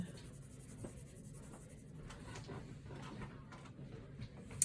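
Sharp graphite pencil shading on paper, built up slowly in layers for an A4 Bargue drawing exercise: a soft, steady scratchy scraping that runs continuously, close and quiet, with faint background noise.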